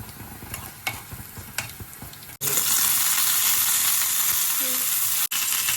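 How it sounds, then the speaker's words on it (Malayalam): Mustard seeds and two dried red chillies hit hot coconut oil midway, bursting into a loud, steady sizzle and crackle after a few scattered stirring taps and clinks in a quiet kitchen. "അങ്ങനെ നമ്മൾ ഇതിലേക്ക് കുറച്ച് വെളിച്ചെണ്ണ ഒഴിച്ച് കുറച്ച് കടുക്, ഇതിലേക്ക് 2 കായ്മുളക് ചേർക്കുന്നുണ്ട്"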